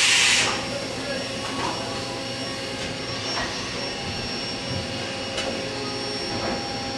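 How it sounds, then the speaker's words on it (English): A milling assembly mounted in place faces the surface of a large rotating drum, giving a steady, loud machining drone with a hissing, whining edge and faint periodic knocks, continuous throughout. "we've mounted a milling assembly, we're getting close to finishing a cut here"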